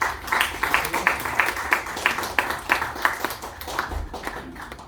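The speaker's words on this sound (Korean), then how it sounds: "우리 김혜정 이사장님을 박수로 맞이해 주시기 바랍니다" An audience at a scholarship foundation event claps together in steady, fairly loud applause to welcome a chairwoman, the rhythmic claps tapering off toward the end.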